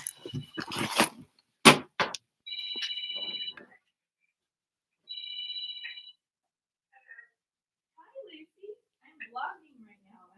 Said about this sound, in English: Ooh, that's a phone for me. I should get that.